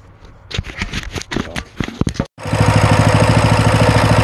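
Coleman CT200u trail bike engine after some clattering handling noises, then catching and settling into a steady, close, fast-pulsing idle that runs loud and continuous to the end.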